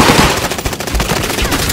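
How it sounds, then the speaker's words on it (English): Dense, loud automatic gunfire in a video game shooter, rapid continuous bursts filling the whole moment at close range, with no talk over it. "they're shooting me"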